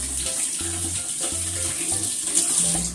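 Tap water runs steadily into a sink while okra is rinsed by hand, a continuous close splashing stream with low hollow tones as the flow shifts, no talking over it.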